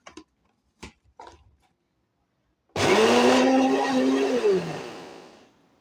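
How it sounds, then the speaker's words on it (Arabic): An electric hand mixer whirs up abruptly after a few light clicks and beats eggs and sugar for cake batter, with a loud, steady motor whine that wavers in pitch before fading slightly. "دابا نبدا نخدم البيض والسنيده، غنخدمهم بحال هكا"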